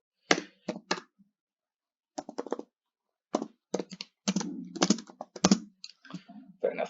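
Java code for a quick sort is typed on a computer keyboard in short bursts of rapid clicking keystrokes separated by pauses, close and clear.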